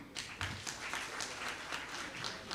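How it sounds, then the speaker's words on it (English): Steady applause from a lecture audience, dense clapping sustained throughout at moderate volume. "let's give a big clap to the Minister once more"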